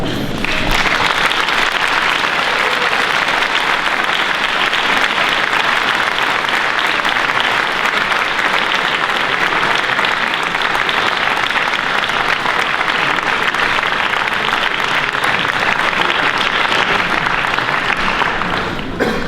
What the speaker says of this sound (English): offer an extraordinary applause to thank parents, families, partners, and friends that have supported you